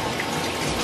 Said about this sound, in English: turn the shower on. So hopefully it doesn't mess up. I'm just drenching my hair